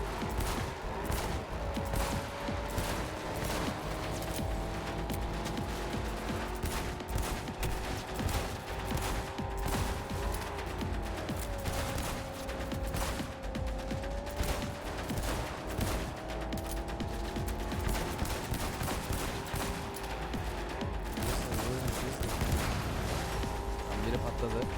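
Dense, continuous gunfire and explosions from the video game Cyberpunk 2077, loud and sustained over a droning game soundtrack throughout.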